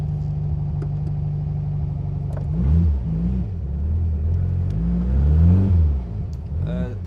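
The engine of a 1963 Volkswagen Karmann Ghia rumbles from a steady idle into repeated rising surges as the car accelerates on a test drive, its pitch climbing and falling through gear changes, close and fairly loud.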